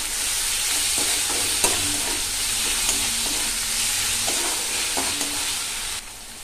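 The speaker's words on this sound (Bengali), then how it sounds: "ভালো করে ভেজে নেব।" Onion with green chilli and ginger-garlic paste fries in a pan, a steady close hiss of sizzling oil broken by scraping stirring strokes at a regular rhythm, with no voice.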